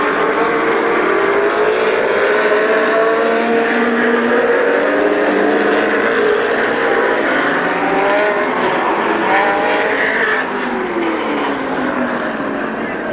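Race cars roaring around Midvale Speedway, a loud, sustained engine drone with rising and falling pitch as several cars pass close by, continuous for the whole stretch.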